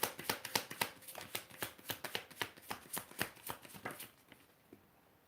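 Tarot cards being shuffled by hand: a quick run of crisp, close riffling slaps in a steady rhythm, faint and alone, slowing and fading near the end.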